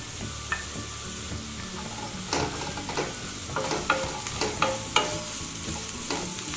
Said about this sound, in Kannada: ಕ್ಯಾಪ್ಸಿಕಮ್ ಹಸಿ ವಾಸನೆ ಹೋಗಲಿ, ಅಲ್ಲಿವರೆಗೂ ಫ್ರೈ ಮಾಡ್ಕೊಳ್ಳೋಣ.